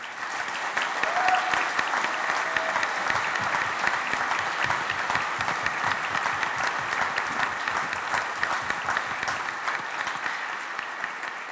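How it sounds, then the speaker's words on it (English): An audience applauds the candidates at a Volusia County Council District 1 debate, with steady, dense clapping that holds at even strength from start to finish. "I want everyone to just give a final round of applause to all these candidates"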